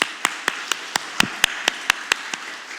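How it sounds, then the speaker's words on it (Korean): A church congregation at a Sunday worship service claps for God, a steady rhythm of about a dozen evenly spaced sharp claps, fairly close and crisp. "하나님께 영광의 박수를 올려드립시다."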